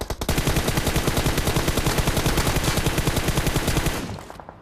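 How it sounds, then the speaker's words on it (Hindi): Rapid automatic gunfire in PUBG Mobile, a loud, close burst of evenly spaced shots lasting about four seconds before cutting off abruptly. "फिर ब्रिज की तरफ से भी फायरिंग के साउंड आए"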